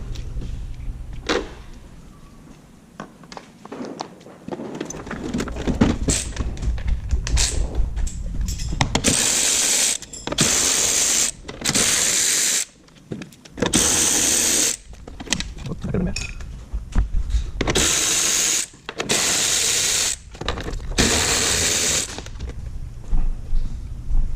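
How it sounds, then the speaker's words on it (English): A cordless right angle ratchet loosens 10 mm bolts on the valve cover of a BMW 328i N20 engine with 180k miles, sounding as loud, close buzzing bursts separated by short pauses, with faint metallic clinks and some talk in the background. "I'm probably gonna use a little right angle ratchet. I mean, like my ratchet cordless."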